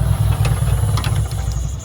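A car engine on its first start-up after repair, idling with a steady low rumble up close and a slight unevenness in the beat.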